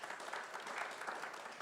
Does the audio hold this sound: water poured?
no